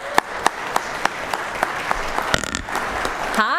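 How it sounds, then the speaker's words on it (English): Applause for a guest on a legislative session floor, a run of sharp, fairly spaced claps that thickens slightly before fading, with a brief voice at the end. "let's give her a big round of applause."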